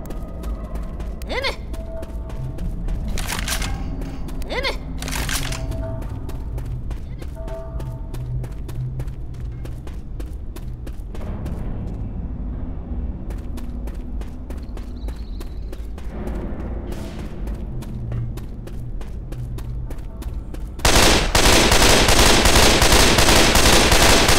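Railgun fire in the zombie shooter game Left 4 Dead 2, Blood Harvest map: repeated sharp shots and bursts amid game noise, ending in a loud sustained roar of gunfire.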